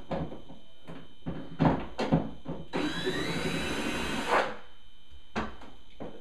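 Screws are backed out of a bathroom medicine cabinet by hand, giving a series of short scraping and clicking bursts, with one longer whirring, grinding stretch in the middle, close up and moderately loud.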